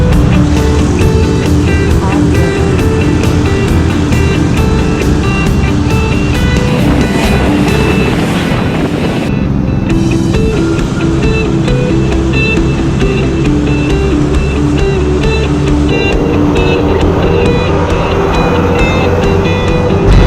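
Riding a motor scooter through Bali traffic, with a constant loud roar of engine and wind rushing past and a dense hum of surrounding vehicles throughout, steady and close without a break.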